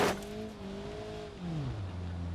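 In the BeamNG.drive driving game, a damaged car engine with worn piston rings and reduced torque drones steadily, its tone sagging lower partway through, moderately close and without talk.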